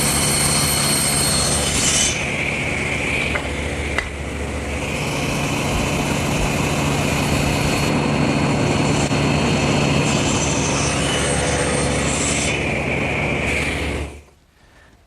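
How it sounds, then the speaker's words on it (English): A table saw tilted to a 6-degree bevel makes cross cuts for a wheelbarrow build, its loud steady motor whine filling the space through the cut before spinning down and falling quiet at the end. "now I've set my table saw to 6 degrees to make the cross cuts"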